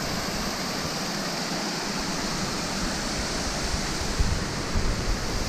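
Kalmandavi waterfall near Jawhar in February, a steady broad roar of falling water heard alone at moderate distance, with faint bumps near the end.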